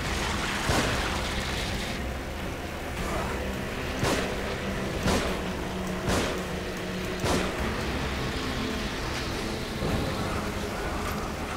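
Sharp explosive booms burst out every second or so over a dense, continuous roar of noise, like blasts and fireworks going off in the video game The Evil Within.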